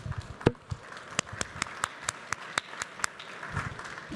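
An audience at an innovation forum gives sparse, uneven applause to six award nominees. Scattered individual claps ring out clearly against a quiet room.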